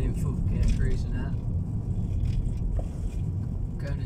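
A Volvo S60 pulls away hard and cruises in full gear, its steady engine and road rumble droning loud and unbroken while someone talks over it.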